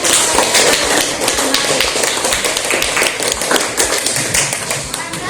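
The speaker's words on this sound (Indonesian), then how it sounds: "tepuk tangan untuk kita semua karena telah menceritakan" A school class claps together for several seconds, a dense, fairly loud patter of many hands with no pauses.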